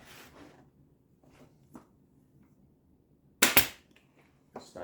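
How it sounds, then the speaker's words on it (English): A staple gun fires staples through fabric onto a dining chair frame, giving one sharp, loud snap midway amid quiet handling rustles, with a couple of softer clicks around it. "Staple in there."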